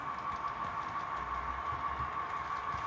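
Model trains run quietly on a layout, a faint, steady motor hum with a soft low rumble of wheels on track, distant and unbroken.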